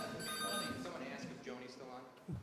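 A telephone rings during a village committee meeting, its repeating electronic tone heard faintly at the start while people talk over it.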